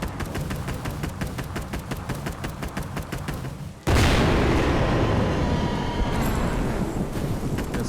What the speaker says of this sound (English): This is the rocket launcher, which is composed of a couple projectiles as well.